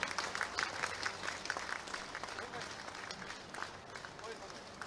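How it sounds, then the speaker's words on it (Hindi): Applause from an audience at a Bihar Diwas 2025 gathering, a dense, steady patter of many clapping hands that stays fairly even throughout, with crowd noise mixed in. "जोरदार ताली साथियों, आपकी सबकी बजती रही।"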